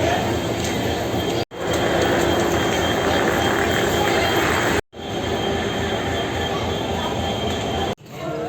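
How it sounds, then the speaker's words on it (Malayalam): Train at Ajmer railway station, a loud continuous rumble of rolling carriages with metallic wheel squeal, broken by a few abrupt momentary dropouts. "അജ്മീർ റെയിൽവേ സ്റ്റേഷനിൽ"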